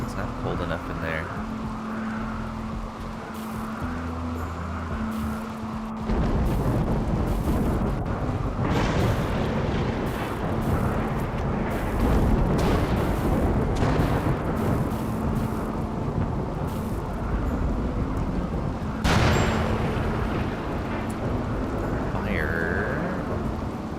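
Rain and rolling thunder in the RimWorld video game, a steady wash of rainfall with deep booming rumbles that swell midway and again near the end, under game music and a voice talking.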